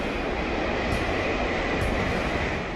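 Steady broadband rushing roar of a Shinkansen bullet train running at high speed, near 285 km/h, constant and loud throughout, with no voices.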